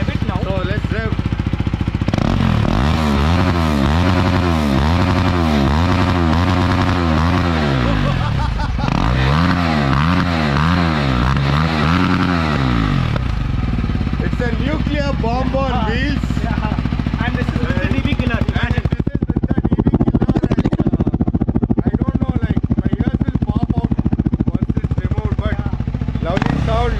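KTM 390 Adventure motorcycle with an Akrapovic exhaust revving up close, loud repeated throttle blips rising and falling in pitch, with someone talking over parts of it.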